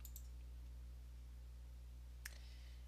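Two quick computer mouse clicks sound sharply close at the start, then a single crisp click follows later, over a low steady electrical hum.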